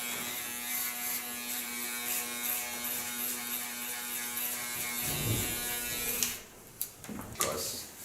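An electric hair clipper buzzes steadily while cutting a super short pixie haircut, a close continuous hum that stops near the end, followed by faint handling noises.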